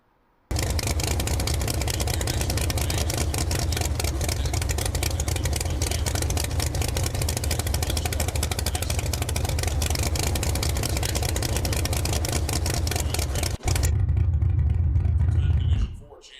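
A small block Chevy engine in an Econo Dragster drag car runs loudly and steadily up close, with a rough idle and revving throughout and a brief change near the end before it cuts off.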